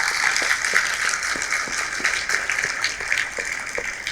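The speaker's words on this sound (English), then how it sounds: "we welcome them with a big round of applause." Audience applause welcoming students at a children's camp event, a steady mid-level wash of many hands clapping without talking.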